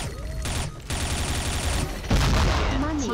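Sustained automatic gunfire in the shooter game XSHOT, rapid bursts rolling on loudly for several seconds with a heavier burst near the end and faint voice chatter underneath.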